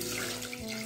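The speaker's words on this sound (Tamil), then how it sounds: "இந்த அளவு தண்ணி ஊற்றிருக்கிறேன்" Water pours steadily into a pressure cooker holding mutton seasoned with salt and turmeric, a continuous close splashing rush with no talk.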